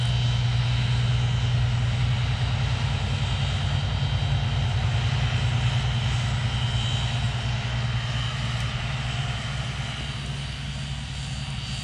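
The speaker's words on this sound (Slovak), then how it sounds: "Keď je dron vo vzduchu" A camera drone flies overhead above farmland in East Slovakia, its steady buzzing propeller drone loud and continuous throughout, with a strong low hum and a bright whine that fades slightly near the end.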